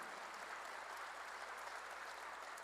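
A church congregation applauds, producing a faint, even patter of many hands that holds steady for a few seconds with no voices over it.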